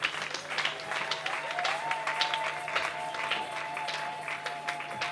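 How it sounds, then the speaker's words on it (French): Applause from a concert audience welcoming a prophet to the stage, a steady mid-level patter of clapping with a faint sustained tone and murmured voices behind it. "Est-ce qu'on peut applaudir pour notre papa?"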